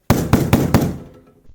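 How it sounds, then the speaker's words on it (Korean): Four sharp, loud knocks on a table come in quick, even succession, followed by a fading resonance and one faint final tap. "그런데 말을 마친 친구는 갑자기 테이블을 노크하기 시작했어요"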